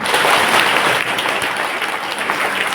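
Loud, dense applause from the audience at a yashbiz marketing business meeting in Kukshi, Madhya Pradesh, holding steady for a few seconds with a slight dip around the midpoint.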